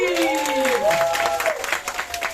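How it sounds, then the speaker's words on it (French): Applause from the audience at a complete children's stage show, with clapping running throughout under a sustained sung or gliding voice and some background music. "Et je vais vous demander d'applaudir encore plus fort Chamallow."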